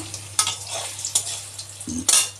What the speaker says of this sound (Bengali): আর এখানে এই যে পনির এই যে ভাজা করছি